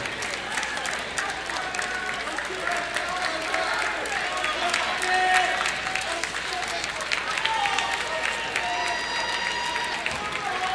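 Crowd applause at a boys varsity high school basketball game in a gym, a steady wash of clapping with some cheering and whistles, tones and calls mixed in, with voices through the crowd noise.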